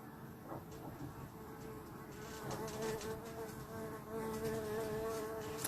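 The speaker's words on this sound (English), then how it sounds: "Actually, it's a wasp." A wasp buzzes around a room, its faint but continuous droning hum wavering in pitch as it flies near and away.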